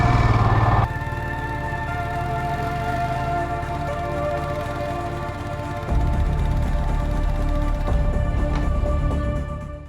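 A Royal Enfield motorcycle engine runs steadily while riding through sub-zero snowy conditions, a close, continuous low thumping drone that rises slightly partway through, with no talk.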